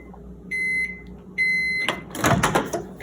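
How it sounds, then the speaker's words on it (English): A microwave oven heating chocolate for banana coating gives two steady electronic beeps, then a burst of clattering and handling noise as the door opens, over a low background hum. "we're gonna put it in the microwave for 30 seconds"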